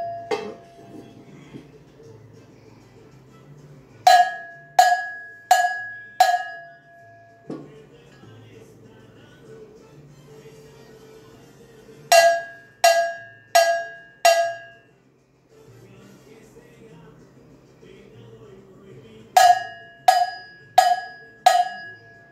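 Two percussion bells are struck in turn, each in short bursts of four ringing metallic hits, with quiet low background noise between the groups.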